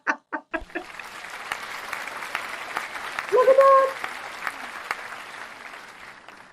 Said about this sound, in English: Oh, I even have applause here.